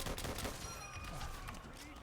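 Gunfire in the war video game Call of Duty: World at War, dense continuous shooting and bursts filling the moment, loud and busy throughout.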